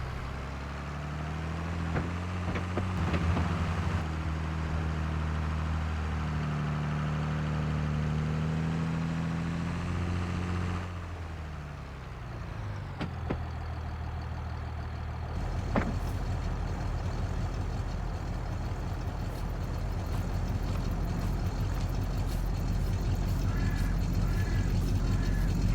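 A vehicle engine in Farming Simulator 22 drones at a steady low rumble while driving, changing pitch partway through and settling into a rougher idle-like tone, with game ambience layered over it.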